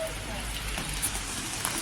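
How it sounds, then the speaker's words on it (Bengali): Rain falling in Vienna during a lunch stop, a steady broadband wash of drops, close and fairly loud, with a low rumble underneath and no clear voices. "আর এখানে আসার পরই শুরু হয়েছে বৃষ্টি"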